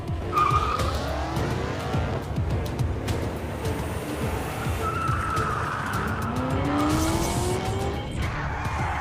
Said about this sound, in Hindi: ये कार रेस के लिए बिल्कुल फिट है।